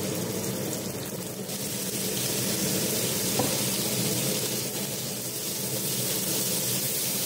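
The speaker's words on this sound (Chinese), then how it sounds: "就咁煎咗啲鱼肉先，" Fish fillets pan-fry without seasoning in hot oil, a steady broadband sizzle that holds at a fairly even level throughout, with no talking.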